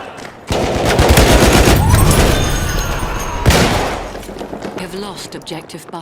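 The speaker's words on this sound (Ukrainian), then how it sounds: "шикарні звуки вибухів, крики солдат" Loud bursts of rapid gunfire and heavy explosions crash close by in a Battlefield video game, with a deep boom partway through and distant shouting soldiers afterward.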